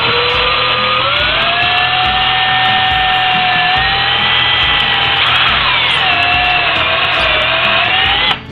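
A power drill whines steadily for several seconds while boring into wood, its pitch rising and dipping slightly, then cuts off abruptly at the end.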